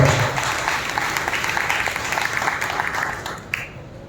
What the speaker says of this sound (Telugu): బిగ్గరగా చప్పట్లు కొట్టి ప్రభువుని